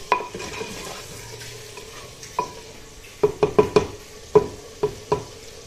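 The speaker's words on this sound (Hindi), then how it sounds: "मिक्स करेंगे इनको अच्छी तरह।" Spices, red chili and turmeric, being stirred into meat in a cooking pot with a utensil, with a soft sizzle underneath and a series of sharp scraping knocks against the pot, irregular and close, with no voices.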